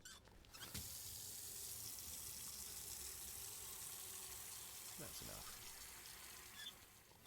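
Water running steadily into a container in Autopsy Simulator, a continuous close rushing stream with a brief break near the start and another around five seconds; a voice speaks briefly over it.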